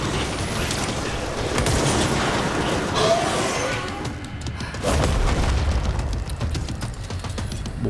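Heavy booms and blasts from grenade explosions and gunfire in the action video game Control roll through a dense, continuous stretch of combat noise, loud and close, with no clear gaps.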